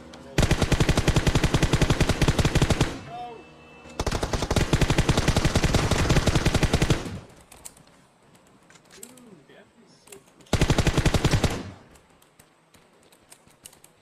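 Bursts of rapid automatic gunfire from a squad-based online shooter, three long loud volleys separated by quieter stretches of faint background sound and occasional voices.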